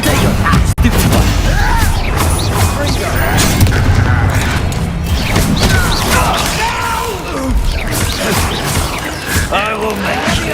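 Spell explosions from Confringo and Bombarda in the Hogwarts Legacy video game, repeated booms and crashes layered with dense game combat noise, with a voice talking over the fight.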